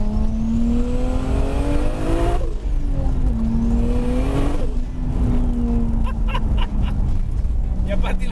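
A modified Toyota Supra with a 2JZ engine revs hard, its tone climbing and dropping through gear shifts while the tyres lose grip in third, loud and close, with a voice talking over the engine.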